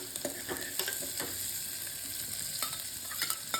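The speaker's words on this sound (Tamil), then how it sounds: "வெங்காயத்தை போட்டு பொன்னிறமாக வர்ற வரைக்கும் இதை பெரட்டிக்கணும்." Onions fry in a pan while a spatula stirs them until golden, giving a constant gentle sizzle broken by repeated light scraping and tapping strokes, close and quiet with no voices.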